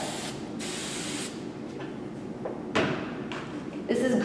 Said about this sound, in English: spray it.